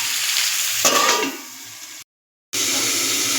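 Cumin seeds sizzle and fry in hot oil in a pan for a poppy-seed okra dish, a steady bright crackle with a brief stir partway through and a short silent gap.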